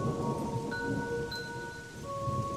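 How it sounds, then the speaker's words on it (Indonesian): Heavy rain sound effect in an Indonesian radio horror drama, a soft, steady hiss of downpour under faint tonal background lines, continuous and fairly quiet with no speech. "Hujan turun sangat deras dari jam 4 sore."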